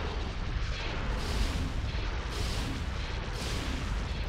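Repeated deep booming cannon blasts roll one after another over a dense rumbling battle din, loud and continuous without any voices, in the video game Star Wars: Empire at War.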